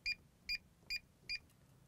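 Four short, evenly spaced electronic beeps from a Galaxy alarm system keypad as a master code is keyed in, crisp and close against a quiet room.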